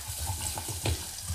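Garlic frying in oil with cumin for a squash soup, giving a steady low sizzle with soft stirring scrapes and a brief louder crackle near the end.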